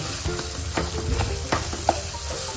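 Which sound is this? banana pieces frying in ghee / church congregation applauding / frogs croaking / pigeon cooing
banana pieces frying in ghee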